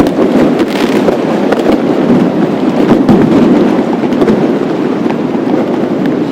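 Dense, continuous crackling and popping of New Year's night fireworks going off at a distance in Yakutsk at -40°C, with sharper bangs standing out near the middle and no voices.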